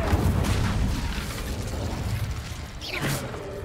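An Incendio fire spell is cast in the Hogwarts Legacy video game, a short whooshing burst followed by mechanical clanks and a rising sweep near the end, with no talk.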